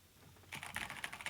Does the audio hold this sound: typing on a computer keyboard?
yes